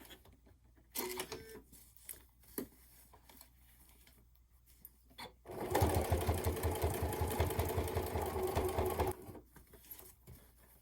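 Sewing machine stitching a fabric carry-all case with an inside lining, running in one steady loud burst of rapid needle strokes for about three seconds, set between quiet handling clicks and rustles before and after.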